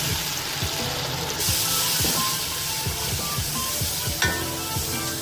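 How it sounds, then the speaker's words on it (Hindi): Water splashes into a hot pot of chicken biryani base with spices, sizzling and hissing loudly right up close, with a short sharp burst of spattering near the end and no talking. "थोड़ा सा पानी डालूंगी,"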